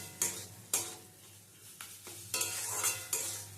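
Fish stir-fried in a pan over a low-to-medium gas flame, with soft sizzling and repeated scraping stir strokes of a spatula, close and fairly quiet, no talking.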